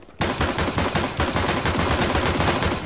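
Dual pistols in the CS:GO game fire a rapid, steady stream of loud close shots that carry on without pause after a brief quiet start.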